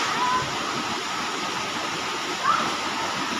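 Steady broadband rush of stream water flowing down from higher ground at Bukal Bukal hills, a continuous close wash with no breaks.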